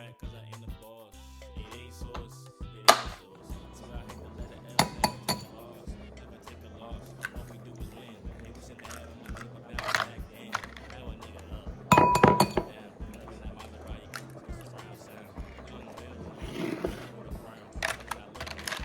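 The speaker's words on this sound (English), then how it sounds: "You're going to crack them, and we're going to put them inside of a bowl." Eggs cracked on the rim of a bowl in a home kitchen give a few sharp, separate clinks, with quieter handling noise between them.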